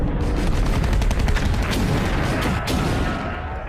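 Artillery barrages and bombardment during Franco's siege of Madrid roar as a dense, loud, continuous wall of booming blasts and rapid gunfire with no pause, heard without talk.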